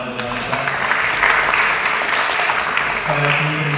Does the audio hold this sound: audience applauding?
yes